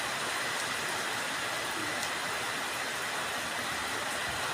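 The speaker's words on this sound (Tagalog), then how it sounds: "Umuulan." A downpour pours steadily outside by a pigeon loft, producing a constant broadband patter and hiss at an even level throughout, with no one speaking.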